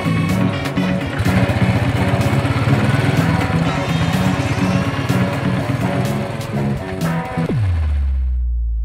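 A motorcycle being ridden: a steady, buzzing engine drone with a fast pulsing beat holds close and fairly loud for most of the stretch, then cuts out abruptly near the end, leaving a low fading hum.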